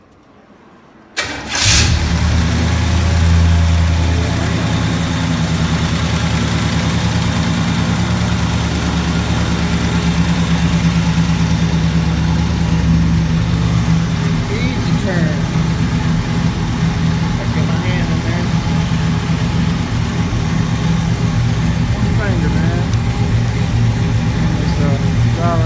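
A 1968 Chevrolet Impala V8 cranks and catches abruptly on a homemade ignition setup, then settles into a loud, steady rumbling idle that carries on without throttle.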